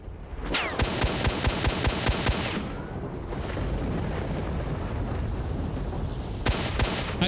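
Rifle gunfire in STALKER Shadow of Chernobyl, with a sniper rifle among the weapons, a rapid burst of loud close shots, then a rumbling wash of noise and a few more quick shots near the end.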